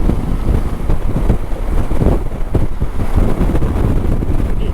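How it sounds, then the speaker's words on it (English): Heavy wind buffets a microphone outdoors beside a Yamaha Tenere motorcycle, a loud continuous low rumbling roar with gusty surges throughout and no speech. "It is windy."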